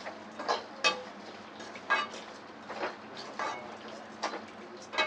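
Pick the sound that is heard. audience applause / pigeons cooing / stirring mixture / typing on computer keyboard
stirring mixture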